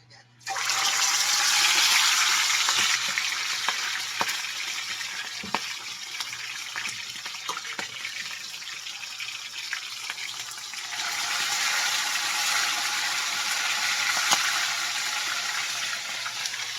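Chicken frying in hot oil makes a loud, continuous hiss and crackle that bursts in suddenly and stays close and steady, easing slightly midway before building again.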